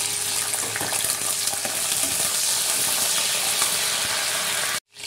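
Okra (bhindi) frying in hot oil for a Hyderabadi bhindi chicken sherwa, a loud, steady crackling sizzle that runs unbroken for several seconds before cutting off abruptly near the end.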